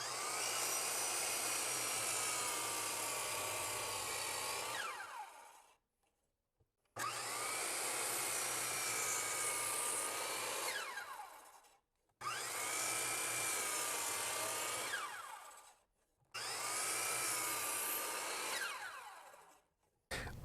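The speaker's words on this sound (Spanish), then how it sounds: "Tenemos que ponerlo en el ángulo de 20 grados del lado izquierdo para poder cortar estas piezas." A power saw disc cuts floating-shelf pieces set at a 20-degree angle, four loud sustained whining cutting passes, each about four seconds long, separated by short silences as the blade spins down.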